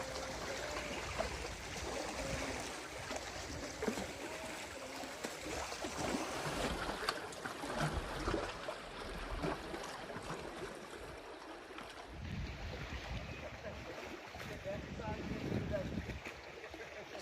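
A boat comes across a loch toward Balmaha on the West Highland Way, its steady engine and water wash holding at an even level throughout, with a broad rushing texture and no clear break.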